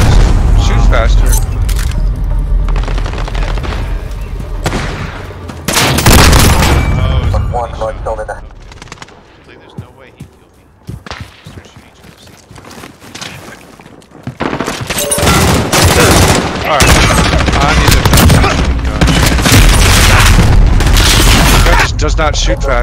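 Rapid bursts of automatic Uzi fire and heavy booms in Call of Duty Modern Warfare, loud and nearly continuous apart from a quieter lull midway, with game voices mixed in.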